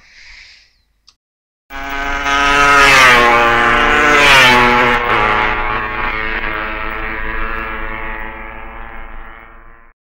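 Period 1967 TT racing motorcycles fitted with expansion-box exhausts, a loud, high-pitched two-stroke wail that rises as one bike passes close by, then fades slowly into the distance.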